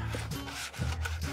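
A hooked hand tool scrapes and rubs grout out of the joints of a pool, giving short, close, gritty strokes in an uneven rhythm.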